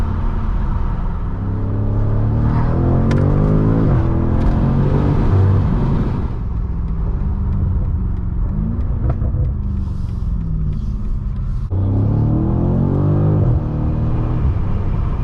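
A BMW F90 M5 with aftermarket intakes revs hard through rising and falling gear pulls, with turbo whoosh and intake roar, loud and close, rumbling throughout without talk.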